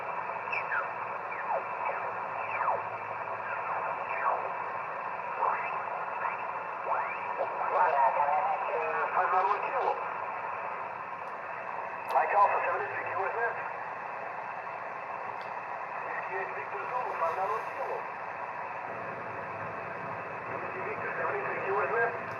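A ham radio on the 28 MHz band picks up a low-power QRP contact through a hotel-window antenna. A narrow, tinny voice comes and goes over constant static hiss.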